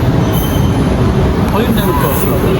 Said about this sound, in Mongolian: Бид нар метро ирчлээ.